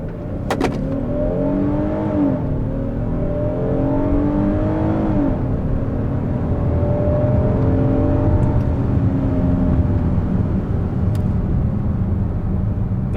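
A 2020 Hyundai Palisade SUV pulls away from a standstill, its engine droning loudly and rising through gear shifts in a sustained near interior roar, with no talking.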